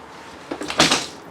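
A 12-volt DC refrigerator door in a travel trailer swings open with a short, close thud and soft suction-like rustle, one brief burst in an otherwise quiet interior.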